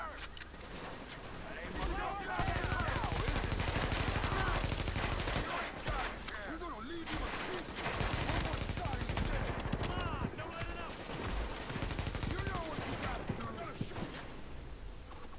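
Enemy gunfire rattles in The Division, sustained bursts of automatic shots crackling over several seconds, with a voice talking over the shooting.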